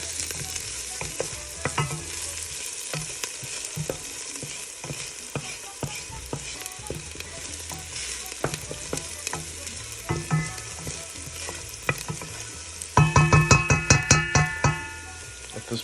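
Garlic and seasoning frying in a pan are stirred with steady scraping strokes over a constant sizzle, the stirring growing louder and more rhythmic toward the end, with no talk.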